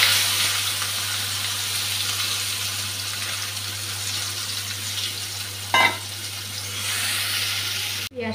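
Onion and green chili fry in hot oil in a pan, a steady close-up sizzle with a brief clatter partway through and a sharp knock at the end.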